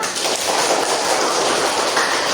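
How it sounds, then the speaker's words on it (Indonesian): Loud, continuous clapping from a class of students, a thick wash of many hands beating together without pause and no talk over it. "tepuk tangan dulu"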